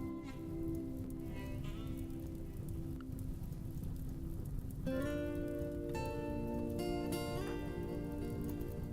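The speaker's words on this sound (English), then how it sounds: "That rainy thunderstorm should take out the rest here, so I'm not too worried about it." Steady thunderstorm rain hisses throughout in the game RimWorld, with tonal game music layered over it and no voices.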